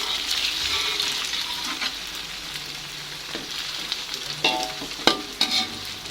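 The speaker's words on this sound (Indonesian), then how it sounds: "Kita goreng segini dulu aja ya." Vegetable fritters (bakwan) fry in oil in a pan with a steady, moderate sizzle throughout. A few utensil scrapes and clinks sound near the end, and no one speaks.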